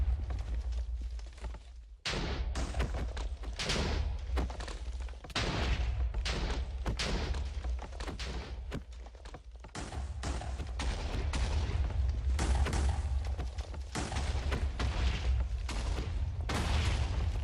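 Rapid, repeated booming blasts of cannon fire and explosions during a Minecraft airship battle, loud and nearly continuous, with brief pauses between volleys.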